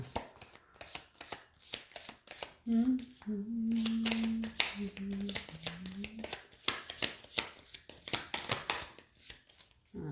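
Rapid riffling and snapping of sticking tarot cards being shuffled, repeated in quick bursts, with a low hum briefly sounding in the middle.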